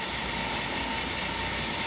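A model train with Santa Fe RSD7 and F7B locomotives and Apache railway engines pulling a Santa Fe caboose runs steadily nearby, giving a continuous loud whirring rumble with no pauses.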